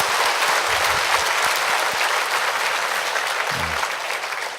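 A church congregation at an anniversary revival service breaks into steady, loud applause that fills the hall for several seconds and fades slightly toward the end.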